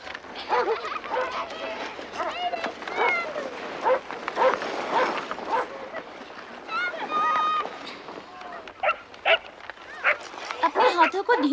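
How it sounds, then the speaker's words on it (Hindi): Several dogs bark and yip in short, excited bursts over a steady outdoor background, with voices talking throughout and some barks louder and closer than others. "मुझे इन कुत्तों से नफरत है।"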